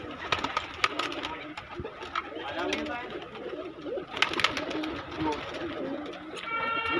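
Pigeons coo in a low, steady murmur with bursts of wing flapping as they fly off a rooftop perch in Loni, India. Someone talks over the birds throughout.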